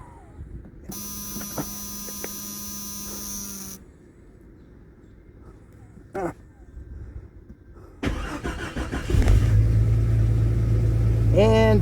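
A 1995 Jeep Cherokee engine cranks and catches after ignition switch repairs, then settles into a loud, steady close-up idle hum, preceded by chimes, clicks and handling noises.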